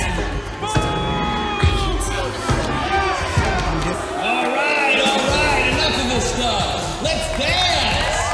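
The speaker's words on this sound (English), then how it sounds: "people are booing James and his dance" A nightclub crowd in the film Showgirls booing and jeering during a dance performance, dense overlapping shouts and whoops under loud music, with people talking over the din.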